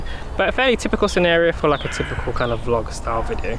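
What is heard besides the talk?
crows cawing in a park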